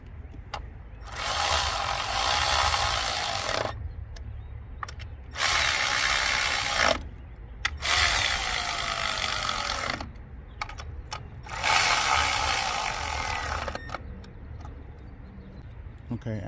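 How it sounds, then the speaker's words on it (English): A 10mm ratchet drive running down bolts on a 2021 Hyundai Elantra during a tune-up, with bursts of rapid clicking separated by short pauses, close and fairly loud, with some talk underneath. "then you're going to get your 10mm drive"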